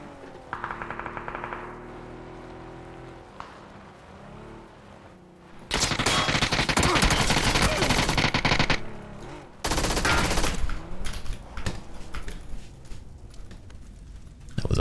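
Gunfire in the battle royale game PUBG, a quieter stretch giving way to long loud sustained automatic bursts, a brief pause, then another heavy stream of rapid shots trailing into scattered fire.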